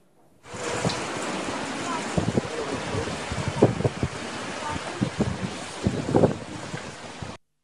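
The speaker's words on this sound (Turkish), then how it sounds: "Konyaaltı ilçesinde dev dalgalar kıyıyı işte böyle dövdü" Huge storm waves pound the shore at Konyaaltı in Antalya during a storm, a loud, rough roar mixed with heavy wind buffeting the microphone and repeated thudding surges.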